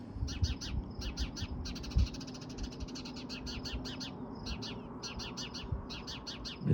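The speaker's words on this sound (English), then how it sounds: "Mrs. Bird is telling us off or something." A bird repeats rapid, scratchy chirping phrases on a hot evening in the Okanogan Valley, steady and fairly near over a low outdoor rumble.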